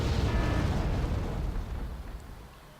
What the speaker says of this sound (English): here comes those bombs I was worrying about